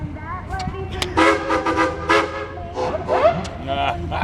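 Noon whistles at a steam show with a sawmill on site, several toots and blasts overlapping at moderate distance amid crowd murmur and outdoor noise.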